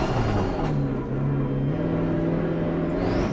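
A race car engine in Assetto Corsa Competizione, a steady droning rumble with a sustained mid-pitched whine that holds and shifts slightly, loud and continuous.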